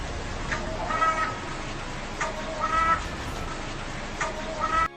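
A crow caws repeatedly in harsh, evenly spaced calls over a steady background hiss, fairly close and loud.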